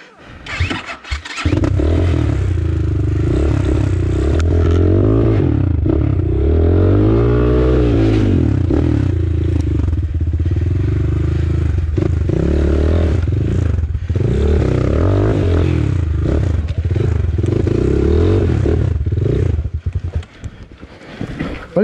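Motorcycle engine revving loud and close throughout a muddy off-road trail ride in Tayabas, with rising and falling throttle bursts and people talking over the engine.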